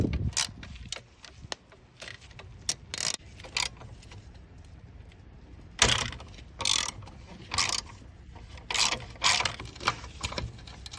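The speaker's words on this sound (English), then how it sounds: "I'll be using a 10mm extractor socket because they're super rusty" A 10mm extractor socket works rusty nuts loose on the accelerator linkage of a 1996 Toyota Camry wagon with a 1MZ-FE V6. Ratchet clicks and metallic clanks come in irregular bursts, close up, with no talking.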